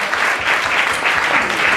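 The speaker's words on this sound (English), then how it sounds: "Round of applause for Heather." A poetry slam audience at a festival applauds a poet walking to the stage: loud, dense, sustained clapping from a crowd, an even wash of claps with no gaps.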